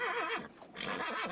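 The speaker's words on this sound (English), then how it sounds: "This horse is getting ready to ruin the shot again." A horse on a film set gives a loud, close whinny that rises, dips briefly and then rings out again, standing alone without talk.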